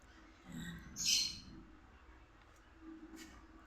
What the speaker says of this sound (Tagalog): Mas maririnig ninyo dito huni ng ibon.